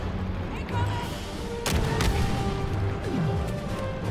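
Shotgun blasts ring out in the Star Wars Battlefront II campaign, with a couple of sharp reports standing out over a dense, noisy wash of battle sound.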